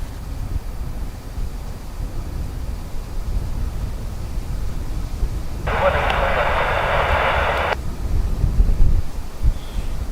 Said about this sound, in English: Next up though is an ATR coming in from Glasgow